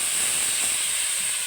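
Soy sauce hisses steadily in a hot pan while an adobo dish cooks, a close, even sizzle with no break and no voices.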